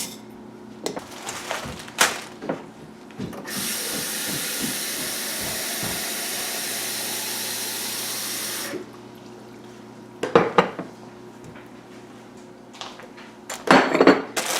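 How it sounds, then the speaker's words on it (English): Running water pours steadily for about five seconds as brown rice is soaked, framed by scattered clinks and knocks of a funnel and kitchen handling before and after. "next up I'm gonna soak my brown rice"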